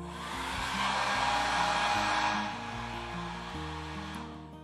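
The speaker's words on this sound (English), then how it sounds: "I'm going to give it a little hair dryer time." A hair dryer blows on wet paint, a steady airy whoosh that swells louder for a couple of seconds and then eases slightly, running continuously with a low background hum and no talk.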